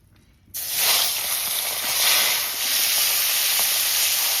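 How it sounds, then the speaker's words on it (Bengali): Steady loud hiss and sizzle of mustard oil heating in a kadai for frying fish, starting abruptly after a short quiet moment and continuing unbroken, close up. "মাছ ভাজার জন্য কড়াতে সর্ষের তেল দিয়ে দিচ্ছি"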